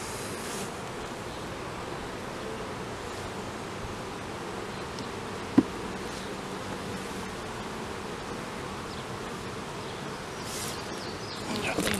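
Honey bees from a swarm trap buzzing around a hive, a faint, steady, continuous hum of many bees filling the background, with one brief click midway and slight movement noise near the end.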